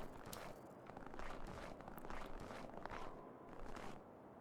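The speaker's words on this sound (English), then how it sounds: "Even with fitting footstep sounds." Footsteps crunching through a snowy winter level in the video game Cold Contract, a steady walking rhythm of close, soft impacts with no talk.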